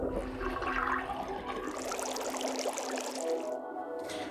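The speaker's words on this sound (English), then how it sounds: "There seems to be some water inside after I drained the other sink." A sink drains in the video game Zero Time Dilemma, with gurgling, pouring water rushing down the plughole, fairly loud and continuous before tapering into a thinner trickle at the end.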